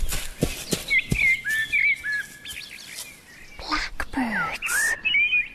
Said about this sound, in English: Blackbirds. Hello, blackbirds.